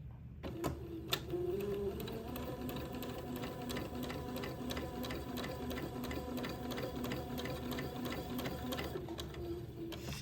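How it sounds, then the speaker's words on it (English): A sewing machine runs steadily, stitching a basting line along the edge of a baby bonnet; a fast, even mechanical whir with rhythmic needle clatter, close and fairly quiet, starting after a brief pause. "I'm going to sew my first basting stitch 1/8 of an inch away from the edge of the bonnet"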